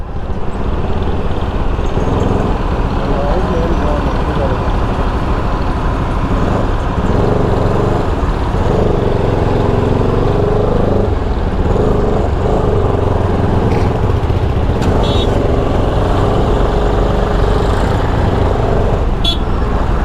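Heavy road traffic on a busy highway: a dense, continuous roar of engines close by, with occasional brief horn toots rising above the steady rumble.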